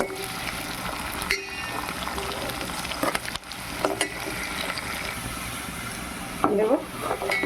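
Onions and curry leaves frying in a pan for a chicken curry, a steady sizzle broken by scraping and clinking as a spoon stirs against the metal, with brief indistinct vocal sounds.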